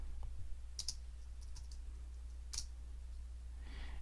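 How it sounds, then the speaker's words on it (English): Computer keyboard typing during a programming lesson, a few sparse clicks and short key bursts close by over a steady low electrical hum, with no talking. "The hardest part of my job here is typing and talking at the same time"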